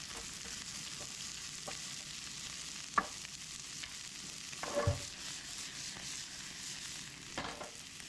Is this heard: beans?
yes